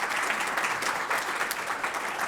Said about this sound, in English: I'd like you to receive a nice round of applause if you're on the board of directors at the chamber